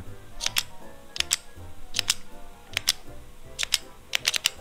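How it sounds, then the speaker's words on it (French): Sharp, crisp clicks come in pairs and small clusters, close and fairly loud, like a pen being clicked repeatedly over a quiet background. "alors on commence tout de suite avec le stylo"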